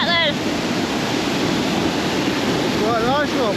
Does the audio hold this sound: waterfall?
yes